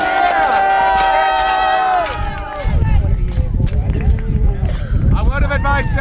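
Knights' horses thunder past at a jousting list, a low galloping rumble that swells midway and continues to the end, following a stretch of loud crowd shouting and cheering.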